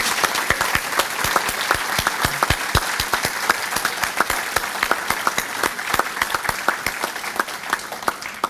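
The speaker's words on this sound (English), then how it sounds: "Please give all of these truly deserving nominees a round of applause." Sustained applause from an awards-ceremony audience at the Valley Legacy Awards 2018 honors the nominees, with many distinct sharp claps standing out over a steady wash of clapping.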